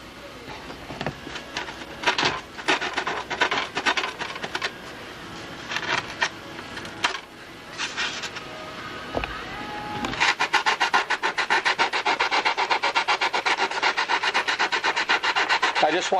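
A rasp files a notch into a wooden horn mount, steady rough scraping strokes, irregular at first and then fast and continuous, close and loud.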